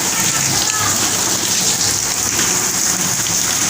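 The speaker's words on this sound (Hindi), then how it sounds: "ये सुनिए ज़रा बारिश की आवाज़ सुनिए।" Heavy rain pours down in Karachi, a dense, steady hiss of water striking surfaces, loud and close with no break, while a voice is faintly present underneath.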